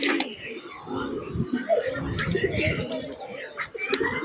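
Teddy pigeons coo repeatedly at close range, soft throaty calls mixed with occasional chirps and wing or cage rustle, heard alongside nearby talking.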